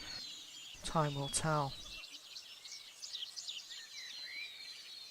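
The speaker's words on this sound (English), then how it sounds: "There's lots of birds and a cacophony of sound, probably that you've never really heard before." Jungle birds calling as an ambient sound effect, scattered chirps and whistles trickling through the background after a short spoken phrase.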